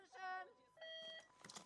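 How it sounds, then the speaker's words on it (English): Electronic start beep at an ice climbing speed final in Oulu, two sustained tonal beeps separated by a short gap with a brief noisy burst after, heard over light commentary. "And there goes the beep, and he's off."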